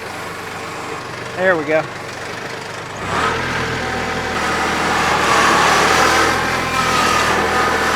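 A machine's engine runs nearby while its bucket pushes dirt up against a pile. The engine rises and holds at a steady rumbling level, and a brief spoken remark comes just before it picks up.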